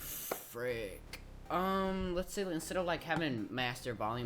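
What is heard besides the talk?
No everyday noise stands out behind the speech.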